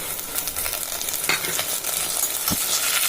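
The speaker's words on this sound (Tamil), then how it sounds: "நல்லா ப்ரௌன் கலர் வர அளவுக்கு வதக்கிடணும்" Onions and a handful of mint sauté in a pan for vegetable biryani, a close, steady sizzle with a few scraping stirs and one soft knock near the end.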